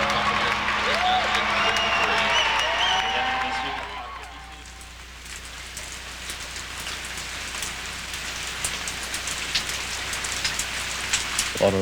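Rain falls steadily at an outdoor closing of the international Summer Special Olympics Games, a dense hiss of drops, with music and crowd noise in the first few seconds before the rain carries on alone.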